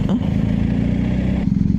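A BMW motorcycle carrying two riders on a touring trip in south-east Tasmania rolls over a speed bump, giving a steady close engine drone and a brief clattering jolt near the start.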